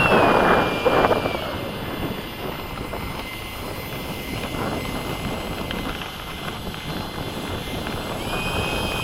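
An F-104 jet aircraft flies over the Bayside airfield, a loud, steady roaring rush with a thin high whine, strongest at the start and then holding evenly as it passes.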